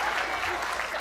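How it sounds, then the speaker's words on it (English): A banquet audience gives a short burst of dense, steady applause, close and moderately loud, at a closing banquet of an annual conference, with some crowd voices mixed in. "Please applaud his courtesy"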